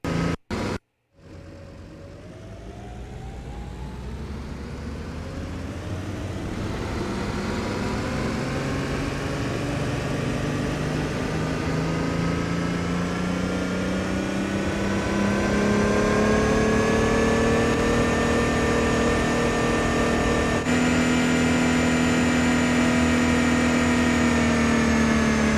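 A car engine runs with no load, its tone climbing steadily as the revs rise over a long, continuous stretch, then holding a high steady drone, loud and alone.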